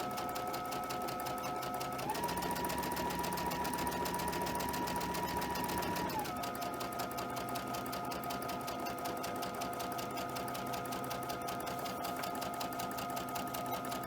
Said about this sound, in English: we're just going to sew straight down this line